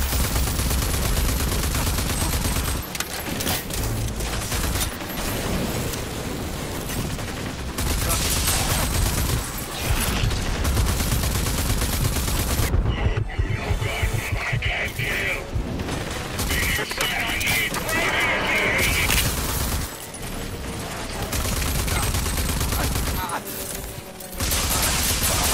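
Assault rifle gunfire in the video game Rage 2, dense bursts of rapid shots and booming impacts running nearly continuously over thick game action and effects, loud throughout with brief dips.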